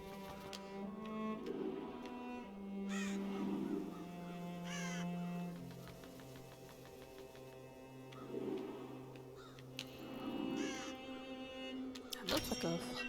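Crows caw in the Child of Light video game, a string of harsh, repeated calls spread across the stretch over a soft background.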